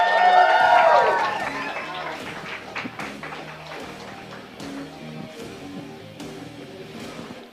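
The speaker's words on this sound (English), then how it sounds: "Let's give a round of applause for Adam Broud." Audience applause for a comedian at a comedy roast show, loud and dense at first, then thinning into scattered claps and cheers that trail off over several seconds.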